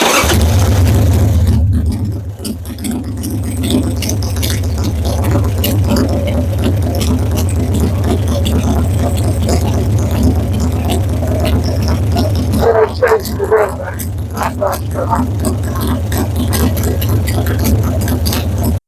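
A hot Harley Sportster motorcycle engine runs steadily at a low idle throughout, with a deep continuous rumble and a brief rise in revs partway through.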